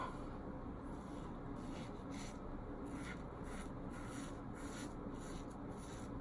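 Rex Ambassador adjustable safety razor set high and mowing through beard stubble, a quiet close rasping scrape in repeated short strokes with brief pauses between them.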